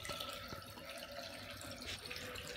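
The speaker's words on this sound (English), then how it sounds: "So this is the hot water in the bath." Hot water from a combi boiler system runs from the tap into a bath, a steady close rushing pour with a few faint splashy drips and no talking.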